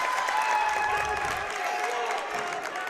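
At a high school boys basketball region quarterfinal, a small visiting crowd for Summertown cheers and applauds in a continuous steady roar, with a commentator's voice over it.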